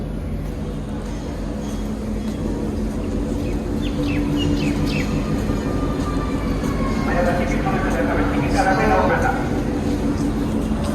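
Steady low rumble of a train at platform 6 of a Rajshahi railway station, with faint bird chirps and distant voices mixed into the busy background.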